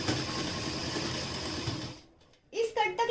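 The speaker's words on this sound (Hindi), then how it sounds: "यहाँ पर आप जरा ध्यान से देखिएगा कि हम इसे कैसे स्टिच करते हैं" A sewing machine runs steadily for about two seconds while stitching a salwar, then stops, and a voice speaks over the quiet afterwards.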